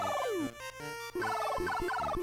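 Birds in the NES game Dr. Jekyll & Mr. Hyde give off stepped electronic chirps and falling bleeps. The tones repeat in quick bursts, loud and alone.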